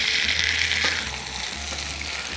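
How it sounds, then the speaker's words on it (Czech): Potato rösti, prebaked in the oven, fries in oil in a pan with a steady, close, loud sizzle and crackle that continues without pause. "takhle připravené brambory opékám na oleji nebo třeba i na přepuštěném másle"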